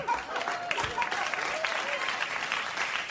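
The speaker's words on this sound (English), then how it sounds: "Nothing like a half-hearted round of applause when you open up to everyone." Thin, scattered studio audience applause on a late-night talk show, a steady patter of claps lasting a few seconds with some crowd murmur underneath and no cheering.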